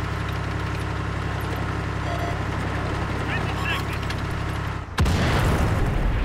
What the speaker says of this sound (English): the artillery is still firing my location